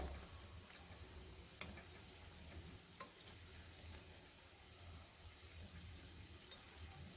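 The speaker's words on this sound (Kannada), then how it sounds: "ನಿಧಾನವಾಗಿ ಮಂದ ಉರಿಯಲ್ಲಿ ಇದನ್ನು ಫ್ರೈ ಮಾಡಿ ತಗೋಬೇಕು" Sweet dough pieces fry slowly in oil over a low flame, giving a steady, soft, even sizzle and bubbling with a few faint ticks, close by and alone.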